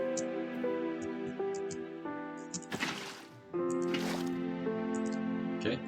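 Water pouring into a container in modded Minecraft, a game sound of liquid filling that comes as repeated squishy drips and gurgles over steady game music, close and moderately loud.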